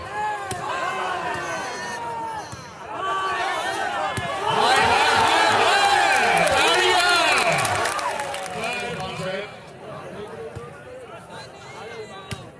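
A large crowd claps and cheers at a lively gathering, the noise swelling to a loud sustained roar mid-clip and then easing off, with shouting voices mixed throughout.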